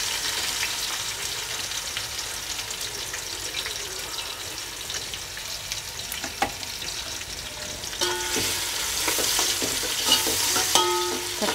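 Onions fry with cinnamon and cloves in a pan for prawn biryani, a steady close sizzle with crackling pops and stirring scrapes that turn louder and busier near the end.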